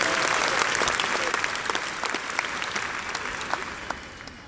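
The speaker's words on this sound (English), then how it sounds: "Give yourselves a round of applause." A comedy show audience claps in a full, lively round, with crisp individual hand claps standing out in the wash and the applause gradually thinning toward the end.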